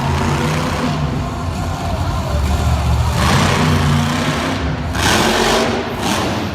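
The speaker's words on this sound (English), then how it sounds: "I gotta love the sound of this truck too." A monster truck engine at a Monster Jam show in Lincoln, Nebraska, roars loud and steady with surges of revving, heard from the arena with a constant, dense rumble and no clear speech.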